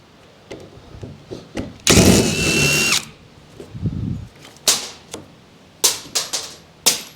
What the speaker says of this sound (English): let's see if we can get some of these screws out